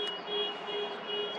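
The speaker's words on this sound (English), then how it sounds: "Now they set the alarm off." An alarm going off outside: a steady, piercing electronic tone that holds on without a break, moderately loud and heard from some distance.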